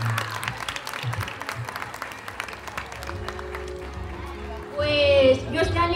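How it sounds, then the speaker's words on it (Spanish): Audience at a school awards ceremony claps steadily for a winner, a dense patter of hands running throughout with crowd noise, cheering and voices rising near the end. "un aplauso"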